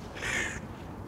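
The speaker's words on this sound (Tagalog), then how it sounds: "Ayun, puro huni ng ibon." A single crow caws once, loud and fairly close, amid the quiet outdoor ambience of wooded Buda hills in Budapest.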